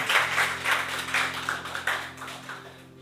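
An audience at a Hindi poetry recital claps along in steady rhythm, even beats repeating about three times a second over a sustained musical drone, fairly loud and close throughout.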